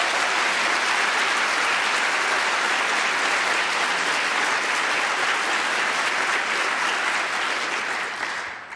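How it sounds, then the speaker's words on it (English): Sustained, dense applause from a large keynote audience at a summit on race and inclusion, steady and loud for several seconds before tapering at the end, with no talking over it. "And I solicit your applause for Gail and the Lakeshore Ethnic Diversity Alliance."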